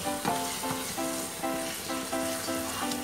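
Carrot halwa cooks with sugar in a pan while a spoon keeps it moving, a steady close sizzle punctuated by rhythmic scraping strokes roughly every half second, with no voices.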